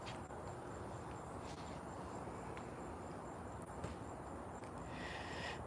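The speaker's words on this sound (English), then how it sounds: "There's still crickets." Crickets chirping in a garden at night, a faint steady trill spread across a quiet background with occasional small clicks, no voices present.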